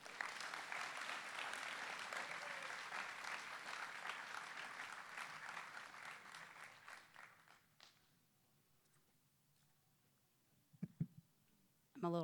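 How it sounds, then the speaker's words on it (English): An audience at a sports hall of fame induction ceremony claps for an inductee, a dense burst of applause that thins and fades out after several seconds, leaving quiet and a couple of knocks. "a big round of applause for Cathrein Silva"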